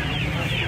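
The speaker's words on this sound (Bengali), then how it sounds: "এখানে দেখতে পাচ্ছেন কোয়েল মুরগি আছে" Quail cluck briefly amid the steady background bustle of a poultry and pet market in Uluberia.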